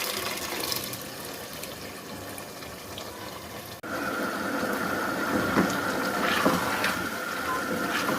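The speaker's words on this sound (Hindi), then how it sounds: "जी बस दाल मैंने डाल दी है।" Boiled mash dal with its own cooking water poured into a pan of prepared masala, a steady wet pouring and sizzling wash that briefly cuts out, then resumes louder and fuller under quiet kitchen background.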